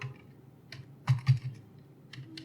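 Someone types on a computer keyboard while configuring a network switch from the command line, a few close, light key clicks with a couple of firmer strikes, with no talking.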